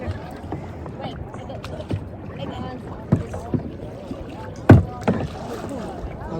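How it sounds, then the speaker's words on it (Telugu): Kayaks from a group tour of about twenty people paddle on open water heading toward Emerald Cove, with soft splashes, occasional knocks and louder paddle strikes under steady wind and murmuring voices. "దగ్గర ఒక 20 మెంబర్స్తో ఇప్పుడే మన కయాకింగ్ టూర్ స్టార్ట్ అయింది."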